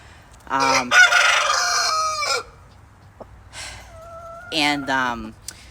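A farm rooster crows loudly and close by, two long drawn-out calls with a short cluck between them, hens clucking around it.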